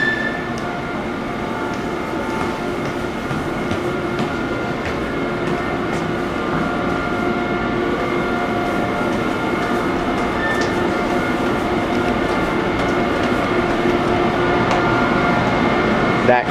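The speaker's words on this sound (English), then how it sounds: "there is an Amtrak train" Amtrak Vermonter train at Moynihan Station in New York, a loud steady rumble and hum of the train idling or moving at the platform, continuous and close, with faint tonal whines over it.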